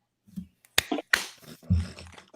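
Several sharp hand claps, isolated and close, spaced irregularly with short gaps of near silence between them.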